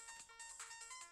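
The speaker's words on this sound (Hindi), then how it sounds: "इस टाइम किसका फोन बज रहा है?" A quiet electronic ringtone chirps in a quick repeating melodic pattern, thin and distant, with no voices.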